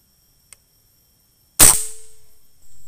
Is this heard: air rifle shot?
yes